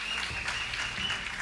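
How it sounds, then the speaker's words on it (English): Sustained audience applause at a Marvel Contest of Champions tournament event for the competitors, a dense, even wash of clapping filling the space with no break. "Can we get a round of applause for all of our competitors today?"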